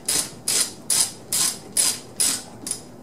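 Half-inch (13 mm) ratchet loosening the side plate nuts on a Husqvarna 359 chainsaw, six evenly spaced bursts of close, sharp clicking in a steady rhythm.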